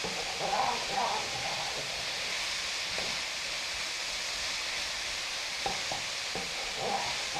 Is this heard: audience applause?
no